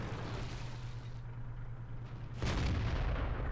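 A tank cannon shot in the World of Tanks video game, from an ELC AMX light tank, bursts out as one loud boom over a steady low engine hum, and the rumble carries on to the end.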